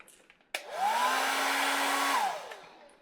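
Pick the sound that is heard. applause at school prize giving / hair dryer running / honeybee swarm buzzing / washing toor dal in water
hair dryer running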